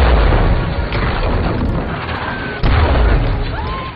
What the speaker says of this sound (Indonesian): maka tembakan mortir pun siap diluncurkan